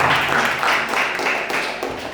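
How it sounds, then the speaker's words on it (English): An audience at a senior Bible quiz breaks into a short, dense burst of applause, loud and close, fading slightly at the end. "Give a big round of applause."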